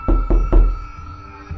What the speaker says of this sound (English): That knocking was directly behind me